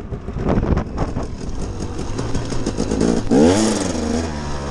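A motorcycle engine revs up, its pitch climbing, then briefly dips as it shifts into third gear before rising again, loud and close with no talking.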